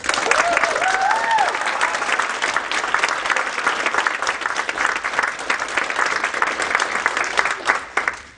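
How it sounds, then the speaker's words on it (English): A graduation ceremony audience of family, friends and guests gives the graduates a final round of applause, with steady, dense clapping that continues at full strength throughout and tapers off at the very end. "please give our graduates one last round of applause"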